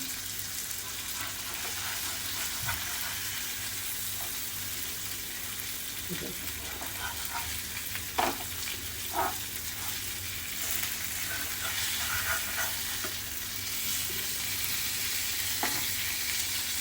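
Black creek fish frying in a pan over medium heat give a continuous low sizzle, with scattered clinks and scrapes as the pieces are turned, and a voice speaks at times.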